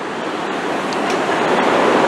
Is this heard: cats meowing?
no